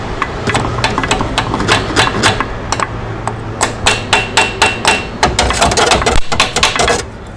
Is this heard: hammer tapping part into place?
yes